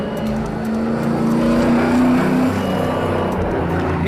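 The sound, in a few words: street legal stock car drifting around a track corner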